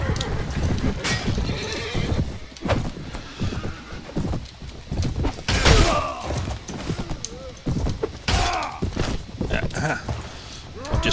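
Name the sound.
horse galloping while riding, from the video game Mount & Blade Warband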